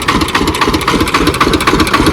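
An engine at a brick kiln drones steadily without pause, a loud continuous mechanical rumble with a faint regular pulsing throughout.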